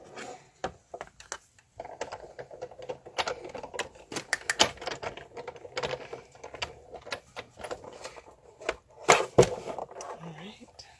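A hand-cranked die-cutting and embossing machine feeds paper over a silicone mat, giving a dense run of close, irregular clicking and ratcheting knocks for about eleven seconds, with a voice faintly present underneath.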